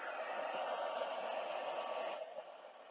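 A heat gun blows with a steady, even airy roar over embossing powder on a stamped card, then drops a little in level near the end.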